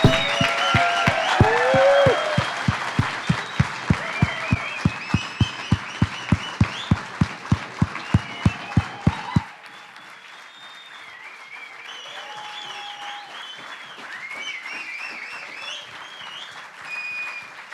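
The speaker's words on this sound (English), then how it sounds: "can we just give like a massive applause for Phil and Audrey and the team behind those guys?" A large conference audience applauds warmly, dense clapping with cheers and rhythmic unison claps for about nine seconds, then the noise drops to a softer, lingering crowd murmur and scattered whoops.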